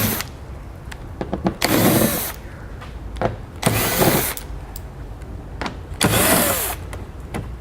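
A power tool runs in several loud, close bursts of a second or so each as it backs out 8mm-head fasteners along the bottom of the front fascia on a 2015 BMW X1. Shorter clicks and handling noises fall between the bursts.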